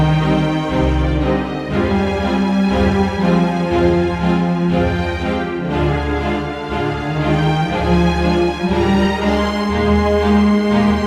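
Full orchestral music from a sampled strings library plays throughout, sustained strings swelling with low brass and occasional bright cymbal crashes, loud and continuous with no speech.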